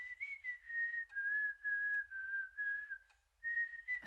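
A person whistles a steady, wavering melody up close, holding long sustained notes with a short break near the end; there is no talking.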